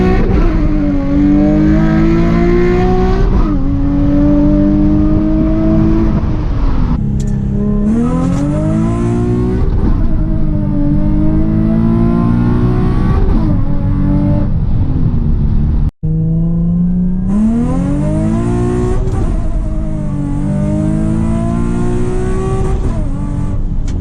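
A Nissan 350Z engine roars loudly from inside the car through repeated hard accelerations, revving up through gears with drops between shifts as it is pushed into drifts.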